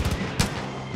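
Gunfire in the video game Far Cry 5: a loud, short burst with one sharp crack standing out over a continuous rumbling backdrop.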